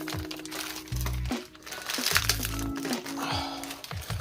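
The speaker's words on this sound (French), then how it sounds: "ils mettent dans un sac plastique et en plus ils scotchent" A Beyblade package wrapped in a taped plastic bag is handled and torn open, giving repeated close crinkling and crackling of plastic with bursts of tape noise, alongside low thumping handling sounds.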